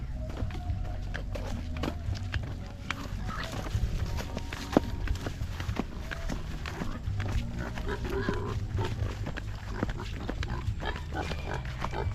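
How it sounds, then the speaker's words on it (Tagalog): Pig being fed at a rural Philippine backyard farm ahead of a baptism feast, with low snorting, shuffling and hoof-like clatter continuing steadily and close over constant background noise. "pakainin po natin mga Karotman yung baboy ni Bibi Yana"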